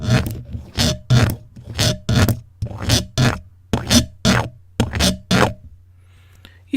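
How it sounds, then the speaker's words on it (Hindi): Repeated bursts of aerosol spray in an ASMR setting, about ten short hissing puffs in a steady rhythm, close and fairly loud, each lasting under half a second, with no talking. "कुछ लोगों के लिए ये जो स्प्रे की आवाज़ होती है ये रिलैक्सिंग आवाज़ होती है।"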